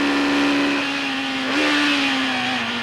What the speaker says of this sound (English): that engine sounds rough